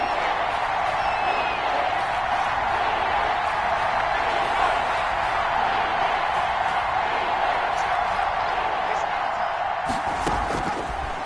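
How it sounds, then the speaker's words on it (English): A football stadium crowd roars continuously ahead of a big third-down play, a dense, steady wall of cheering and noise with a sharper burst of sound near the end. "The crowd getting into it as we come up on a big 3rd down."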